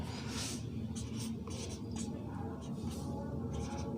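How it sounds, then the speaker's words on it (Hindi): Writing on a board during a Hindi grammar lesson: soft, steady scratching and rubbing strokes close by, with intermittent stroke sounds and what may be a faint voice underneath. "मैं इसको यहाँ लिखता हूँ"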